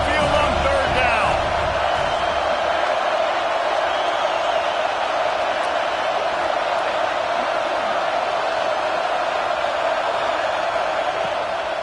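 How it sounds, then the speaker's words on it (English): An Alabama Crimson Tide football crowd at Saban Field roars on third down against Oklahoma, a steady, dense wall of noise sustained throughout beneath a commentator's voice. "The Tide crowd rolling noise down onto Saban Field on third down."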